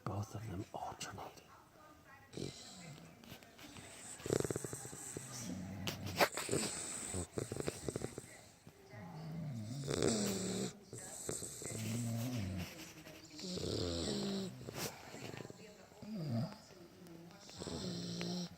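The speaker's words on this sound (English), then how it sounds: "taking turns snoring." Two dogs snore in turns, raspy rhythmic breaths rising and falling across the stretch, close and fairly loud, with hushed human voices talking quietly underneath.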